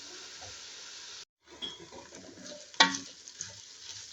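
Ingredients being sautéed in a pot for a rice and broad bean dish give a soft, close sizzle with light stirring scrapes. There is a brief cutout, then a sharp clank of a utensil against the pot.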